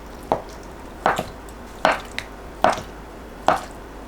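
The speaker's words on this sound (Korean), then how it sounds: "두부는 한 입 크기로 썰어주세요" Tofu being cut into bite-size pieces with a knife for a soybean paste stew, five distinct, evenly spaced chops landing roughly once every 0.8 seconds against a quiet background.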